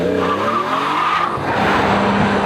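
BMW M Coupe tyres squealing hard through a pylon handling test, a continuous loud screech with engine drone beneath, shifting pitch as the car changes direction.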